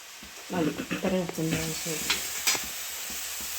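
Mutton roast masala with tomato and salt sizzles in a pan while being stirred, a close, steady frying hiss with scraping stir sounds that quiets toward the end.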